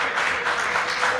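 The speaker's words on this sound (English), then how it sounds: "I'm not aware why you are clapping" An audience claps steadily throughout a committee session, a dense, even patter of many hands close by with no pauses and no voices.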